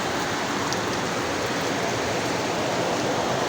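Strong water surges along below during a sudden heavy downpour, a dense, continuous rushing roar at steady loudness with no pauses or voices.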